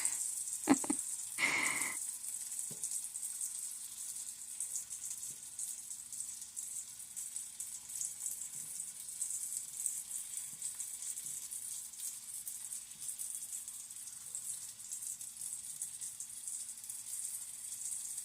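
Potato hash with smoked sausage sizzles softly in a pan, a faint steady frying hiss throughout, with a few clatters near the start.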